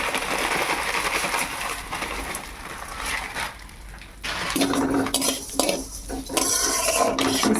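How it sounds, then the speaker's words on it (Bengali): Vermicelli frying in ghee in a pan, a steady dense sizzle with scraping and clinking of a utensil stirring, brief quieter dip midway before the frying noise returns loud and continuous. "সাময়টা আমি ঘি দিয়ে লাল লাল করে ভেজে নিলাম"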